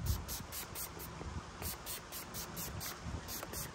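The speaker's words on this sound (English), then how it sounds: "So let's go ahead and spray it." Quick bursts of cleaner spray from a pump bottle onto a 2021+ Bronco fuel door repeat in a steady rhythm, close by and moderately loud, with some faint rustling underneath.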